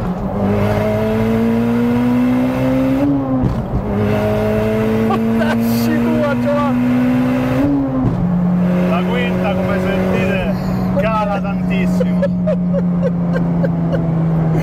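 Mitsubishi Lancer Evo X tuned to 550 hp accelerating in second gear, a loud droning engine note climbing steadily with sharp shifts and pops, heard from inside the car while people talk over it.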